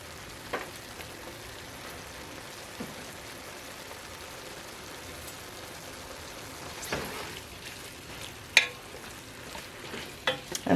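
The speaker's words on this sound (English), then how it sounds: "So let's go ahead and put our garlic in." Fresh garlic frying with browned meat in a pot for cabbage soup makes a low, steady sizzle. Occasional stirring scrapes and knocks come through, growing busier toward the end.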